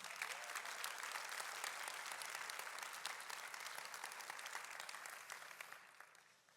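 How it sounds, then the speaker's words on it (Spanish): Sustained applause from a church congregation during a worship service, a dense steady wash of clapping that holds strong and then gradually thins and fades toward the end. "Si ese aplauso es para el Señor, déselo más fuerte."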